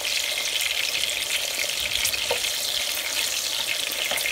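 Cumin seeds and green chilies fry in hot oil, giving an even, close hiss of sizzling with faint crackles throughout and no talking.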